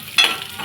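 Masoor dal frying in a pan gives a brief close sizzle, with a quick stir-like scrape cutting sharply over soft, continuous background hiss.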